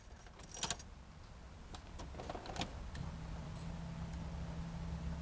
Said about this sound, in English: Here in the fuel pump prime up, that's good.